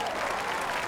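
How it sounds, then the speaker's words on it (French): A crowd applauds in the PGA Tour 2015 golf video game, a brief burst of steady clapping filling the moment. "la foule a bien beau applaudir"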